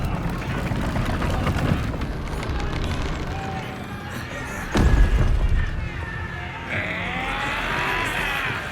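Cannon fire erupts in a battle at a gate in a fantasy game, with one heavy booming blast about halfway through over a constant rumbling din of fighting and shouts.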